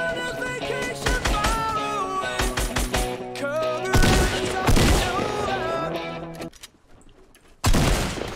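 Gunfire in the video game Fortnite, heard as bursts of rapid shots and booms over loud, tonal game music and effects, with a short quieter gap before another burst.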